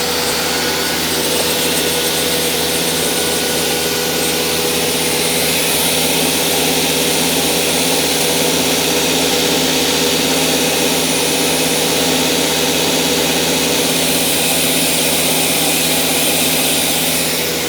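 Label nesting CNC router with its axis moving over a sacrificial MDF sheet, giving a steady, loud machine drone with a constant hum that runs unbroken from start to finish, with no talking.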